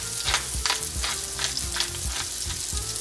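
Seasoned food fries in a skillet while a utensil stirs it in repeated rhythmic scrapes over a constant close sizzle, with no voices.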